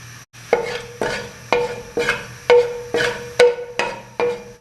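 Ghee with cinnamon and two or three cloves in a pan, heard as a series of about eight sharp rhythmic clinks or taps roughly every half second over a low steady background, close and fairly loud.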